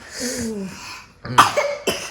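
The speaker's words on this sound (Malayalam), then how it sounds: "ജലദോഷവും ചുമയാണ്" A child with a cold gives two or three sharp coughs close by, following a stretch of soft breathy vocal sound; no speech.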